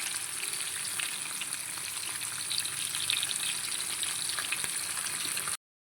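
Fish sizzling steadily in hot oil with curry leaves, a dense, continuous crackle that stays loud and even for about five seconds, then cuts off abruptly.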